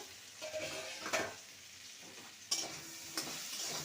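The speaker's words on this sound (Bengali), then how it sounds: "টমেটোটা সুন্দরভাবে ভাজা হয়ে গেছে" Tomatoes frying in a pan with a soft, low sizzle under a few sharp stirring scrapes and utensil knocks, close and fairly quiet, with no voices.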